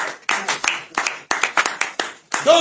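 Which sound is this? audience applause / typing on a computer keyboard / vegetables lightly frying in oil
audience applause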